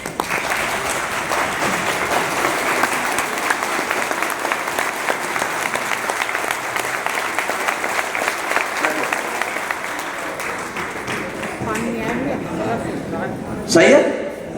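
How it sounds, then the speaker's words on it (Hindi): An audience at a spiritual discourse claps together in sustained, dense applause that stays steady for over ten seconds before tapering, with a single louder clap or knock near the end. "खड़े होकर ताली बजाओ एक बार।"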